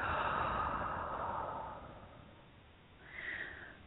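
A person slowly and deeply exhales during a calm guided breathing exercise, one long soft breath fading over about two seconds, then a lighter breath follows near the end.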